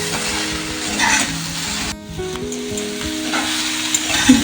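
Sliced eggplant and ridge gourd frying in a pan for a traditional fish shukto, a loud steady sizzle with stirring scrapes and a brief dip in the hiss.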